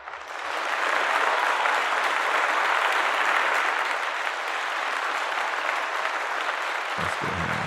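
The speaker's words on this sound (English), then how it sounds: "I want y'all to give her a round of applause." Sustained applause from an audience at a barbershop talk show with a guest poet, steady and dense for about seven seconds before tapering off at the end.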